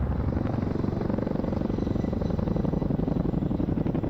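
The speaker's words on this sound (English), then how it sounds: "the crewman, is Flight Sergeant Sam Norris, waving to us from the capacious freight bay of the Chinook." A Chinook twin-rotor helicopter at the 2005 Royal International Air Tattoo at RAF Fairford, giving a loud, steady, rapid thudding rotor beat over a deep engine roar.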